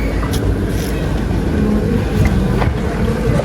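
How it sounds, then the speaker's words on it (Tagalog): Steady low engine rumble of a boat underway, loud and close, with wind buffeting the microphone and faint water wash. "Kailangan namin sumakay ngayon ng bangka."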